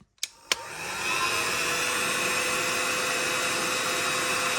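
A heat gun blows a steady, loud rushing hiss while heating a very tight lower control arm bolt on a car suspension, starting after two short knocks and holding constant to the end.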